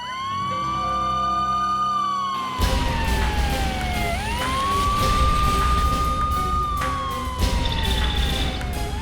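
A fire brigade siren wails up and down in long sweeping tones, loud and close, with a truck engine rumbling underneath as it approaches.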